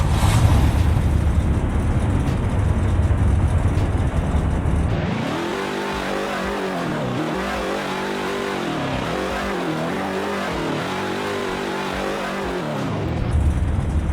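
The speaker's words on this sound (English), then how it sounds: "This is gonna be the new sound for the Charger 500" Dodge Charger 500 engine in the Roblox game Greenville, a loud throaty rumble that revs hard, drops to a burbling idle with rhythmic pulses, then builds again, with no talking.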